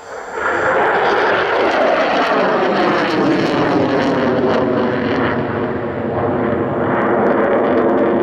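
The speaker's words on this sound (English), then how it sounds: "pulling up the Eurofighter Typhoon FGR-4" A Eurofighter Typhoon FGR-4 jet roars through an RAF display at Duxford air show, a loud continuous engine rumble with shifting pitch as it pulls up and sweeps past.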